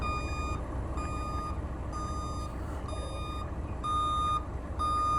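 A heavy semi wrecker truck backs up, its reversing alarm beeping in a steady repeated rhythm over a loud, continuous diesel engine rumble, close and clear.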